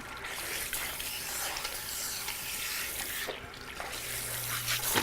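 Running water from a salon sink sprayer rinses hair as bare hands work through it, a continuous hissing splash that shifts and sputters as the hands move.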